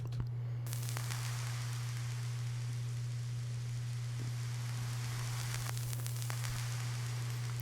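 Steady hiss and crackle layered as background noise to mimic an old, worn recording, with a constant low hum underneath and occasional faint clicks, running alone at low level with no talk.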